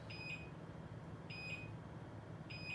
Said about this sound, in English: We may have some beeps going on, guys.